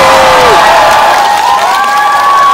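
A crowd of fans at a CGV Yeongdeungpo cinema stage greeting applauds and cheers loudly for a singer-actor, with steady clapping and high excited shrieks throughout.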